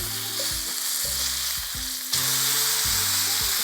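Steak sizzling hard as it sears in a hot pan for peppercorn steak, a steady loud fry with repeated low rumbling bursts from the cooking, and the sizzle swells louder partway through.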